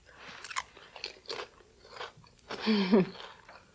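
Crisp crunching of potato chips made with Olean, a few quiet bites early, then a louder close-up crunch near the end; no talking.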